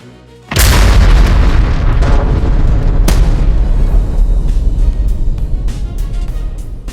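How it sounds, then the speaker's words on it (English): A sudden loud explosive boom bursts in after a brief quiet, then a long heavy rumble with a second sharp crack partway through, slowly fading. "an explosion tore through the night"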